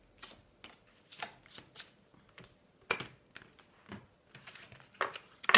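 Tarot de Marseille cards are shuffled by hand, a close series of short crisp riffles and taps in an irregular rhythm, quiet between bursts, with no talking.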